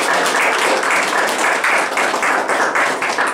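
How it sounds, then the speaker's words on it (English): Steady round of applause from an audience at a painting exhibition opening, dense clapping that is loud, close and continuous throughout. "if everyone can just join with me in a round of applause"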